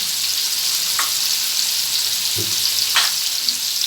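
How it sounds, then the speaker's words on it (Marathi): Turmeric sizzling in hot oil for a Maharashtrian cauliflower curry, a steady soft frying hiss with a couple of brief spoon scrapes, close and alone without talk. "हळद पण छान परतून घ्यायची"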